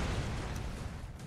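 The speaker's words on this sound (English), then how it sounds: "it's like an attention seeking bomb" A bomb explodes in the video game Broforce, giving a short, loud, rumbling blast that fills the whole moment with no voices over it.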